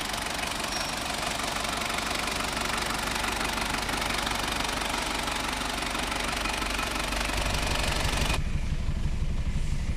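Rebuilt Ford Ranger engine idling steadily up close with a rough, knocking mechanical rhythm, running continuously with no voices.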